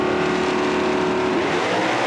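A 1968 Dodge Dart and a 1968 Plymouth Barracuda with Hemi engines launch side by side on a drag strip. Their engines roar loud and continuous as they pull away.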